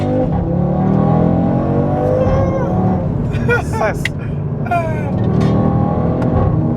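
An Audi RS3 fitted with a custom downpipe revs and growls through its exhaust, the engine note running steadily beneath someone talking close by throughout.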